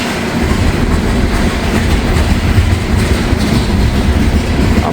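A train rolls past in the snow at Evendale, a loud, steady rumble with rhythmic wheel clatter sustained for the full five seconds, close and unbroken, with no talk.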